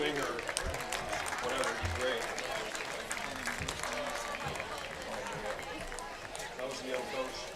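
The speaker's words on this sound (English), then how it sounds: "Please give a big round of applause for JEO Investments" A crowd applauds in the stands at a high school football game, a broad, steady patter of clapping heard from some distance and fairly faint, with murmuring voices mixed in.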